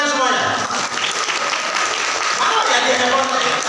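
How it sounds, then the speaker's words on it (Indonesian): An audience at an organisation's officer installation ceremony claps loudly and steadily, with close applause filling the whole clip and voices audible underneath it. "Terima kasih. Tepuk tangan semuanya."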